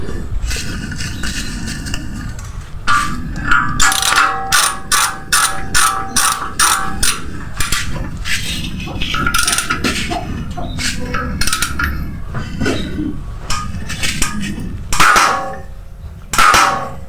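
An impact tool tightening an M18 bolt to 360 Nm, a loud close run of rapid metallic ratcheting hammer bursts in several clustered volleys, with clanks between them.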